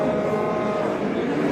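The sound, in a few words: cows mooing at a livestock market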